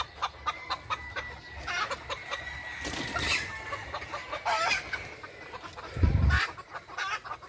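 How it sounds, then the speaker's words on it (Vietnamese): Chickens about five months old cluck and call repeatedly on a chicken farm near grassland, with scattered bursts from several birds at varying distances and a louder thump near the end. "Này là gà khoảng chừng 5 tháng."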